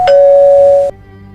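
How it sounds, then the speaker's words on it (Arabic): A household doorbell rings with one loud, close electronic tone that sustains for nearly a second before cutting off, leaving quiet room noise and no talk. "شوف الجرس بيضرب، شوف مين اللي على الباب"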